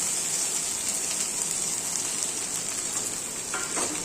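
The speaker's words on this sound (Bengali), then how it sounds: "এবার এই ভেজে রাখা যে উচ্ছেগুলো রয়েছে সেই উচ্ছেগুলো এর ভিতরে দিয়ে দিলাম" Fried bitter gourd is tipped into a pan of maya fish frying in hot oil, giving a steady, close, hissing sizzle with faint stirring clicks near the end.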